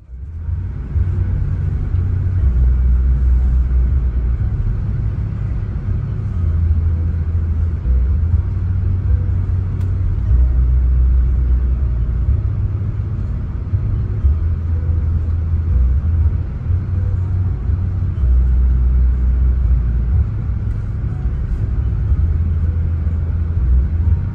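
Aerobus coach cruising on the toll road toward Medan, a steady loud low engine drone and road rumble throughout with a slight rising-and-falling pulse, no voices.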